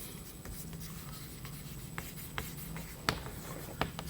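Marker or chalk writing a statement on a board during a fluid mechanics lecture, a soft continuous scratching with a few sharper taps and strokes, heard close and without speech.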